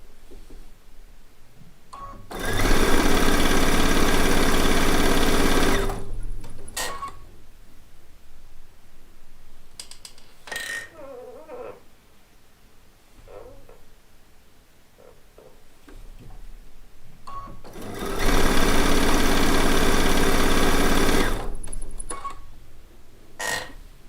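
A sewing machine piecing quilt block units, with two separate loud bursts of steady, rapid stitching close by, separated by quieter handling noise in between.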